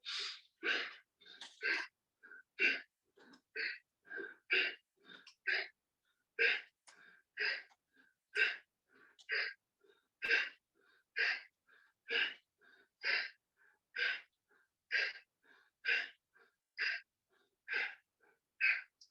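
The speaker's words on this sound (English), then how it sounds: "you're doing forcefully breathing out. It's just like Kapalbhati." Forceful Kapalbhati breathing exercise: a long steady series of about thirty sharp, rhythmic nasal exhalations, evenly paced and close, with no talking.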